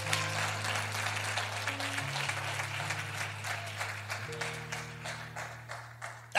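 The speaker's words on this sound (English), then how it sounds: "I'll clap." Clapping from a church congregation during a sermon, soft scattered claps over a sustained organ or keyboard chord, fairly faint and settling toward the end.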